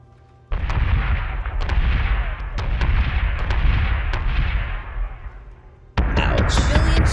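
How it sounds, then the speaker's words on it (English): Missiles strike ships in the space combat game Battlestar Galactica Deadlock, producing a sustained heavy rumbling barrage with sharp impact cracks, a brief lull, then another burst of blasts, all loud with no talk. "Missiles incoming."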